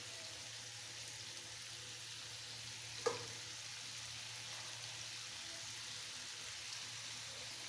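Shrimp and bitter melon stir-fry sizzles steadily in a pan as green chilies are added, with a brief sharp clink midway and a constant soft frying hiss.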